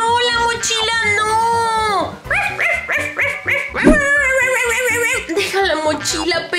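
A cartoon dog barks and whimpers loudly and close, giving excited yips and whiny cries over a bouncy musical score with a voice in the mix.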